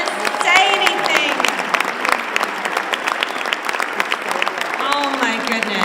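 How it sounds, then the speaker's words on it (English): Warm applause fills a room at a 2019 ESC COVS luncheon, a steady wash of many hands clapping, close and loud, with whoops and excited voices cutting through. "Can we give a big round of applause to Mike, who doesn't even want to say anything?"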